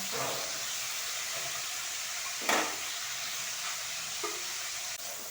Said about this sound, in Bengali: ব্রোকলিটা প্রথমে একটু ভেজে নেব